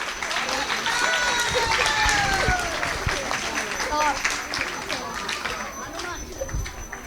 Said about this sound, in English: So let's give a round of applause for all the kids.